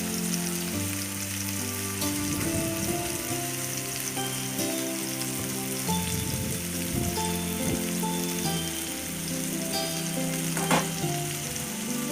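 Tandoori chicken sizzles and fries steadily in a pan over a high flame, a dense continuous crackle with occasional louder spits, close and alone with no talking.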